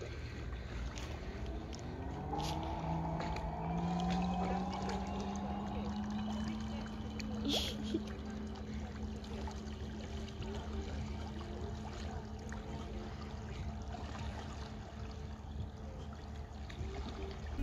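A homemade water-cooled motor drives an inflatable kayak across water, a low steady hum that rises in pitch for a few seconds then settles into a constant drone, with faint water and wind noise around it.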